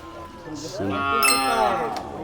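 A water buffalo (carabao) lows at a Philippine livestock auction, a deep drawn-out moo rising and falling over about a second, fairly close, with faint crowd noise around it.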